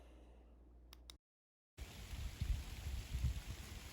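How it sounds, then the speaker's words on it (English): Rain falls steadily outdoors with a soft hiss and scattered patters of drops, broken by a brief silent gap, then returning slightly louder. "I think the rain's actually going to set in this time"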